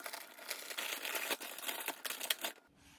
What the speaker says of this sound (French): On dégaine la paire de ciseaux.